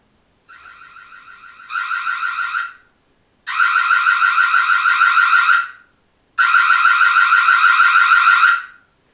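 Loud electronic alarm siren from a Reolink Lumus Pro 4K security camera blaring in three long bursts, the first starting softer then stepping up, with short silent gaps between.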